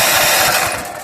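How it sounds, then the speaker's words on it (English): The electric starter of a homemade sawmill's engine cranks with a loud, steady mechanical whir and grind up close for about a second, easing off slightly at the end. "Electric start."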